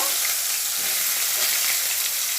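Onion pieces go into a hot kadai where mustard seeds have already popped, producing a loud, dense, continuous sizzle that holds evenly and close throughout.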